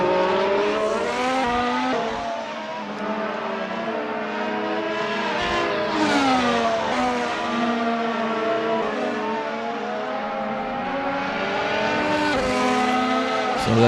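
Race car in Assetto Corsa on the final lap, a loud continuous engine whine rising and falling through gear changes and corners, close and steady throughout with no talk.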